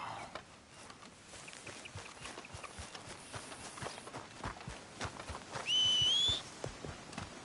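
Irregular hoof clip-clops of a horse walking in the video game Red Dead Redemption 2, moderately loud, with a brief whistle-like tone near the end.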